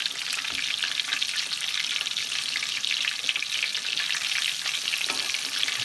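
Battered chicken fried steak fries in a pan of hot oil, giving a loud, steady, dense sizzle that continues without a break throughout, with no speech over it.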